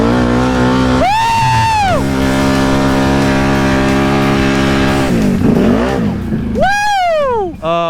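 A big four-wheeler ATV drives through a deep flooded backyard. Its engine drones loud and close, rising and falling in two sharp revving sweeps with water churning between them, and a voice calls out briefly near the end.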